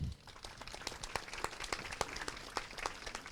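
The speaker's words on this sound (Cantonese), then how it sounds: "以最熱烈嘅掌聲啦" An audience at a public forum lecture claps steadily, with many separate hand claps blending into moderate, somewhat distant applause.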